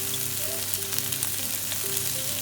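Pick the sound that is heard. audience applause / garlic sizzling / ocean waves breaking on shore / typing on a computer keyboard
garlic sizzling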